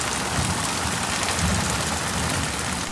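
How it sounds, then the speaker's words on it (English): Rain shower at an RV park in Sarasota, a steady broadband hiss of drops falling on surfaces, even and continuous with a low rumble beneath and no voices. "So we had a few bouts of rain."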